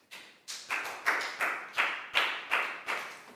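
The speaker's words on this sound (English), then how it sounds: "Big round of applause for Pak Bung," A school class gives a big round of applause in a rhythmic group clap, about nine sharp evenly spaced claps that sound close and fairly loud, with no talking.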